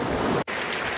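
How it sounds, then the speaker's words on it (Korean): Rising sea during Typhoon No. 10 with heavy rain and wind, a continuous loud roar of surf and wind buffeting the microphone, broken by one brief dropout. "그리고 보시다시피 파도의 높이는 점점 높아지고 있습니다."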